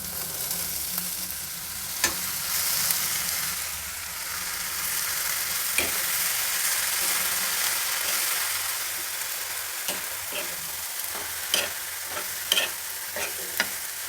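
Amaranth greens and cooked lentils stirred and fried in a pan, with a steady sizzle and repeated scraping clicks of a spoon on the pan, close and clear, with no talk.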